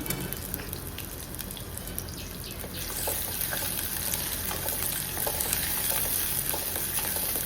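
Steady sizzling and crackling of shallots frying in a pan for a drumstick-leaf dish, with occasional stirring scrapes, close and continuous with no talk.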